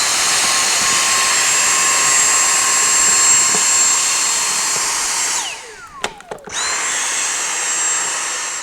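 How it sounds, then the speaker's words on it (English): A small portable vacuum cleaner runs steadily with a loud, even whine while sucking sand out of the airbox of a BMW R1200RT motorcycle, its pitch dropping briefly as it cuts out, then resuming. "So here's a little portable vacuum. We're going to vacuum around the little area where sand builds up inside this box."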